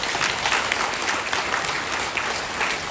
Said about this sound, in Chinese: 那我们给自己掌声鼓励。